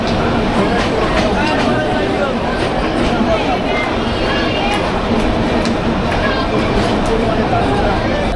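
Steady rumbling and rattling of a moving, crowded local commuter train heard from inside, a dense continuous roar with faint clacking and muffled voices underneath.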